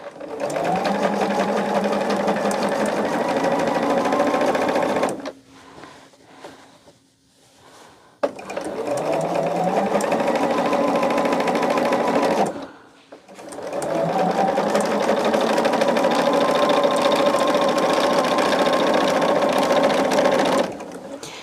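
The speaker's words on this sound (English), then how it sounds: "Close your eyes and listen to the sewing machine." A sewing machine stitches quilt pieces in three long, steady bursts of fast humming, close and loud, separated by short pauses of near silence with faint handling noise.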